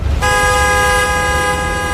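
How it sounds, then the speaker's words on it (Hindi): A single loud car horn blares continuously after a brief moment of low rumble, holding a steady tone to the end. "तो फिर ये हॉर्न कैसे बजा"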